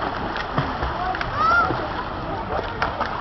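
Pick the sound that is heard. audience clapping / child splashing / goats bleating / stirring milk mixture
child splashing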